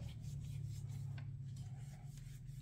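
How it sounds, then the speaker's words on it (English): A tool is rubbed clean by hand, giving a steady, close scrubbing rasp that runs unbroken over a constant low hum. "just keep rubbing until it gets nice and clean for you."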